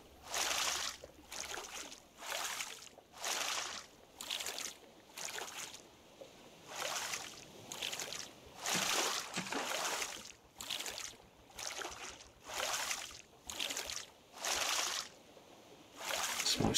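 A raft on open water in the survival video game Raft, with rhythmic sloshing wave swells rising and falling roughly every second, soft and steady, with no talking.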